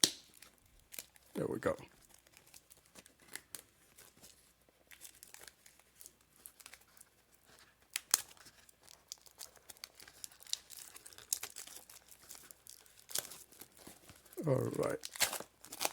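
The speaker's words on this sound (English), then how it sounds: "I succeeded in tearing a hole in the plastic, so see if I can get it wider and just tear it open." Plastic packaging of a TicWatch Pro 5 smartwatch being torn and crinkled open by hand, with scattered crackles and a couple of louder ripping bursts, near and under brief casual talk.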